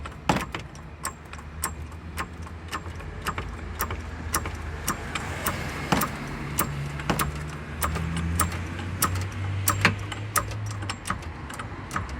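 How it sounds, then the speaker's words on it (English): A mechanical jack ratchets as a heavy Subaru is raised on a roadside, sharp metallic clicks and clanks repeating irregularly over a low steady hum of nearby traffic. "And I'm just jacking it up from here."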